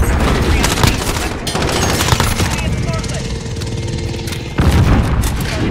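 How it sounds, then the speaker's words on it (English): A VTOL aircraft attack in Modern Warfare brings dense bursts of gunfire and heavy booms, with a whining engine tone sounding through the barrage and a sharp blast at the end. "See, there goes my VTOL."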